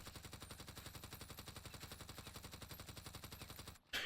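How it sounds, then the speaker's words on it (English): Sustained automatic rifle fire in Warzone, a rapid, steady stream of shots held for nearly four seconds before abruptly cutting off, loud and close with no talk over it. "if I'm gonna shoot that guy, I just need to hold down my trigger button a little bit more"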